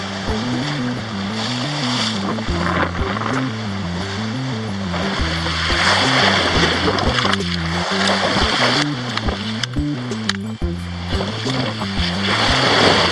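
Calm ocean water washes steadily past a sailing yacht on a passage from South Carolina to Florida. A continuous, fairly loud rushing swash sits over a low droning hum that slowly rises and falls, with no talk.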